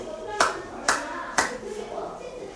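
Students in a chemistry class clap their hands together in three sharp, evenly spaced claps about half a second apart, over a low room murmur.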